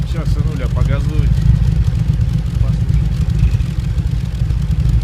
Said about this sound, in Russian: Ну что, иди газуй, гонщик. Сейчас сынуля погазует.